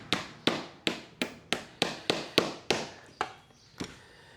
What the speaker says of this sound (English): See if we tap this nail out.